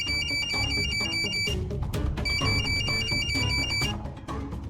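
A telephone rings with a repeating electronic ringtone melody in two bursts, loud and close, over a steady bed of background music in a home.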